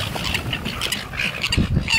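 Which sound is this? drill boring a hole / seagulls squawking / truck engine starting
seagulls squawking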